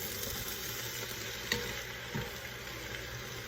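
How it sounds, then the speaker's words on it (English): Ground beef browning in a pan for chili, a steady broadband sizzle running throughout with a couple of brief clinks from stirring, close and moderately quiet. "you got to make sure that all of your beef is thoroughly browning"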